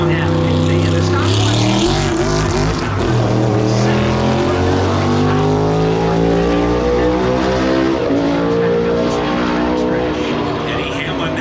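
NASCAR stock cars roaring through the turns at North Wilkesboro Speedway during All-Star qualifying, a loud sustained engine drone with shifting pitch as the car powers through and off the corner, with announcer commentary over it.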